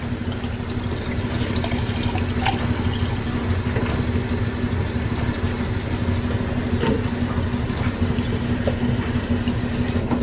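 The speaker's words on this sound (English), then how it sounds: "I'm going to fill the rest up with nice cool water" Cool tap water pours steadily into a container holding a little granulated sugar, a continuous even rushing that holds at one level from start to finish, with no voices.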